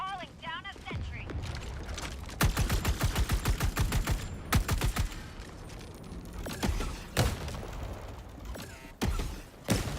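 Rapid bursts of automatic fire from a deployed sentry turret in Helldivers 2, loud, repeated volleys with mechanical clatter between them, a voice talking over parts of it.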